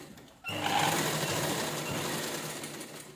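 A sewing machine stitches a seam on a square-neck blouse, starting abruptly after a brief quiet moment and then running in a fast, steady whirring chatter close by.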